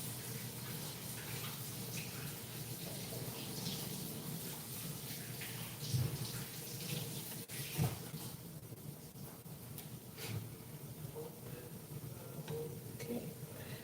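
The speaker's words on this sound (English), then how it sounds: "Let me rinse up my hands" Hands being rinsed under a running tap while making puff puff, a steady wash of flowing water with a couple of brief splashes, fairly faint and with no talking.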